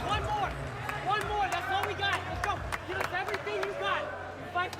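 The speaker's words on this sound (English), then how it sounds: "I love hearing the athletes cheer each other on." Men's NCAA gymnasts at the ECAC Championships cheering teammates on from the background, a busy hubbub of shouts and calls with scattered claps under a nearby commentator's talk.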